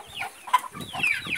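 A mother hen being treated for fowlpox clucks close by on a farm, a few short nasal clucks and squawks in quick succession, clear and fairly loud.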